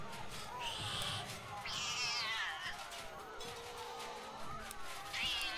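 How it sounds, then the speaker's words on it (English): Cartoon cat meowing in South Park: The Stick of Truth, several drawn-out, wavering meows over soft game background sound, fairly quiet. "Look it, that's a kitty."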